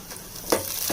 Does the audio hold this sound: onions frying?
yes